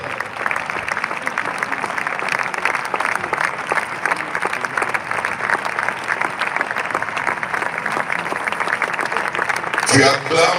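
A large congregation at a church service before a funeral applauds and cheers loudly, with dense, steady clapping running unbroken and a louder swell near the end.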